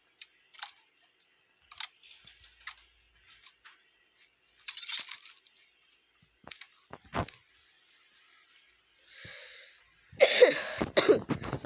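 Several short, dry coughs break a near-silent background at intervals during Call of Duty Mobile gameplay, followed by a louder burst of coughing and throat clearing at the end.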